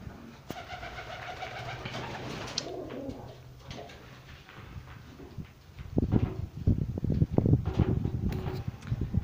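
Domestic Egyptian pigeons coo in a hot indoor loft, soft throaty calls repeating nearby, joined by louder fluttering and shuffling toward the end; no one speaks.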